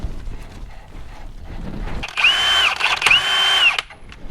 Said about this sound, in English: So now we'll put our nut back on.